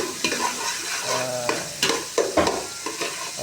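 Food sizzles loudly in a hot pan while being stirred and sautéed, with scraping spatula strokes over the steady frying hiss, for a Filipino dinuguang manok.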